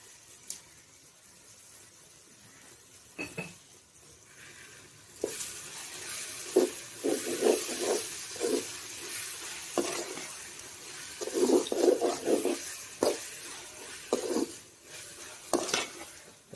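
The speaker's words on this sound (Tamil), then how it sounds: "தக்காளி நல்லா வதங்கி வரட்டும்." Tomatoes sautéing in a pan for Chennai-style chicken gravy, a soft sizzle with repeated scraping and stirring strokes of a spoon against the pan, growing busier partway through, close and without talk.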